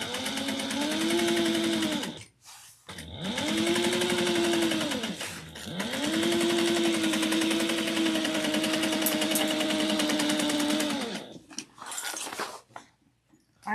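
A sewing machine runs in three long stitching bursts, its motor whirring with a steady pitch that rises and falls at each start and stop, separated by short pauses and light handling noises.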